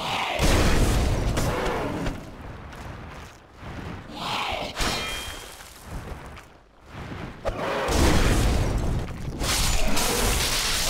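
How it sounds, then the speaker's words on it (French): A bomb detonates in Dark Souls Remastered, with repeated loud booms and thuds across a busy stretch of game combat, no talk over it. "Ça faisait longtemps qu'on n'avait pas utilisé une bombe."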